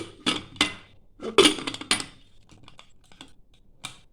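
Knife chopping food on a board while preparing egg tarka, a few sharp close taps in quick clusters, then lighter scattered knocks fading toward the end.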